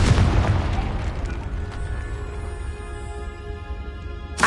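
A Confringo spell explosion in the Hogwarts Legacy video game bursts with a loud boom at the start, then trails off in a long rumbling decay before another sharp pop at the end; no voices.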